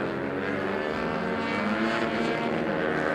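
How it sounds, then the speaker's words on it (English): A 150cc 4-stroke racing motorcycle accelerating onto the front straight of a race track, a continuous loud buzzing engine whine with rising pitch, steady and close throughout. "accelerating on that 150cc 4-stroke number 45 Pizza House sponsored bike onto the front straightaway"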